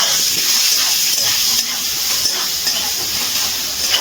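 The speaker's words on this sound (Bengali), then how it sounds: "এবার আলুটা নুন হলুদ দিয়ে ভালো করে ভেজে নেব।" Potato pieces frying in hot oil with salt and turmeric hiss and sizzle steadily at close range, a dense, even crackle with no voices.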